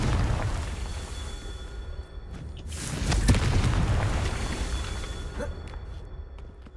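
A Confringo fire-blast spell cast in Hogwarts Legacy bursts with a whooshing boom about midway, then a lingering rumble over soft ambient game sound.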